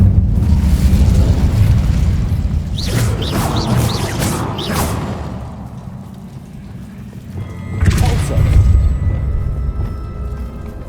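A fiery Incendio spell blast in the Hogwarts Legacy wizarding game bursts out as a loud, rumbling roar over steady low ambience, with a series of crackling flares midway and a second surge near the end.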